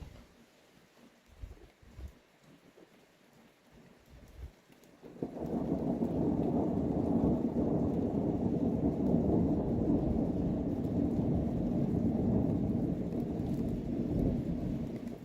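A thunderstorm: heavy rain roars in suddenly after a few seconds of quieter patter and distant thunder rumbling, then pours steadily and loudly through the rest of the storm.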